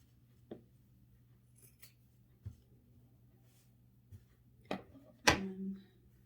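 Scissors snipping fabric while sewing a machine cover, cutting clear of the stitches: a few sparse, quiet, close snips spread apart, ending with two sharper, louder cuts near the finish, with no speech.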